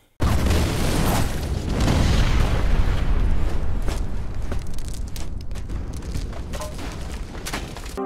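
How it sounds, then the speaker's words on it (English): A massive, deep explosion bursts in suddenly and keeps roaring and rumbling loudly for several seconds as it slowly tapers off. "Followed with a massive explosion."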